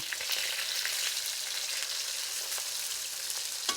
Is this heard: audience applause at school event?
no